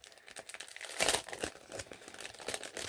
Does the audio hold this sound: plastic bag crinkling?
yes